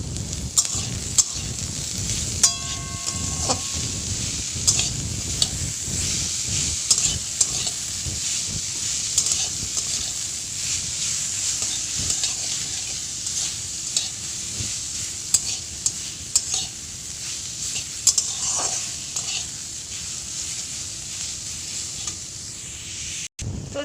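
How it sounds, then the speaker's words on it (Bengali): Chow mein with vegetables for restaurant-style prawn hakka noodles, stirred and fried in a pan: a steady close sizzle runs throughout, with irregular scraping and clinking strokes from stirring, and no voices. "এখন লবণটা দিয়ে নাড়িয়ে নেবো"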